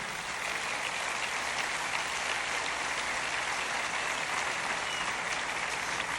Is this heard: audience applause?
yes